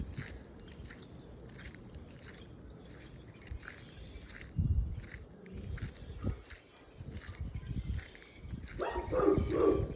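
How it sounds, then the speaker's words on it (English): A dog barks a few times at a distance, the barks loosely spaced over outdoor ambience with faint bird calls. "Oh, this dog."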